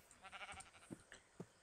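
Sheep bleating in the Minecraft video game: a few short, nasal bleats rise over a faint, steady game background, with the last two bleats most distinct.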